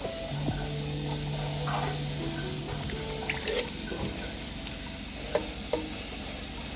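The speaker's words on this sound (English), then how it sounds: "Now I'm just gonna add the coconut milk inside." Coconut milk goes into a pan of frying mushrooms, giving a steady close sizzle with soft stirring scrapes and a few sharp clinks near the end.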